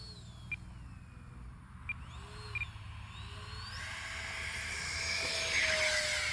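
An E-flite Habu RC electric ducted-fan jet flies in to land on a November day, its whine faint and distant at first and then swelling louder and rushier as it approaches, with a few faint chirps in the background.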